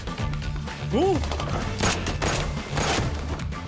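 Gunfire in a movie trailer starring two well-known actors, a few shots and crashes buried in a dense mix of music and voices, with a rising whistle-like effect partway through.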